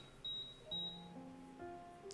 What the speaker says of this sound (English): I lift my head to look at the elevator as it beeps in protest.